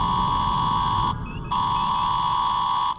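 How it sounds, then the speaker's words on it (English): A spaceship alarm blares as a loud, continuous electronic tone, drops out briefly for a moment, then resumes, over a low rumbling background. "Turn the alarms off, you can't hear yourself speaking here."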